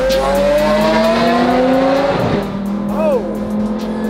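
A supercar on a rally drive around Beverly Hills roars loudly nearby, its engine note rising and shifting with revving, while people talk over it.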